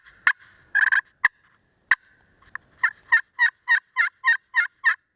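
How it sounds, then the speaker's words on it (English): A wild turkey clucks and yelps nearby: a few scattered sharp clucks, then a steady run of about eight evenly spaced yelps, clear against a quiet outdoor background with no talking. "We actually really do got a turkey down here yelping or clucking."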